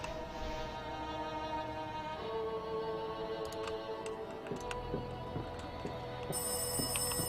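A phone rings in repeated electronic trills over a steady hum of game music in the horror game Rise of Insanity, fairly quiet and without talk.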